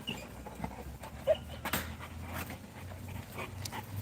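Americane da Presa dog panting quietly, a soft, steady rhythm of quick breaths close by, with faint background rustling and no talk.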